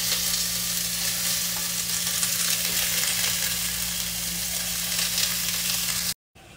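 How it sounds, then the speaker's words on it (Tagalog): Chicken pieces sizzle and fry in a hot pot as tinola cooking begins, a steady close crackle throughout with no talk, cutting off abruptly near the end. "Yan, ilagay ko na yung chicken."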